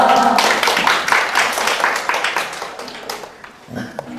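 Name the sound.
applause in a lecture hall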